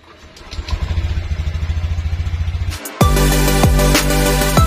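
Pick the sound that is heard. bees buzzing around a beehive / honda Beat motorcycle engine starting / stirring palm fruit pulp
honda Beat motorcycle engine starting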